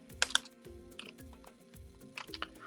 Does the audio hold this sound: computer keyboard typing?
yes